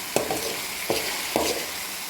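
Garlic frying in leftover tuna oil, a steady soft sizzle broken by three sharp spatula scrapes against the pan, close and alone with no talk.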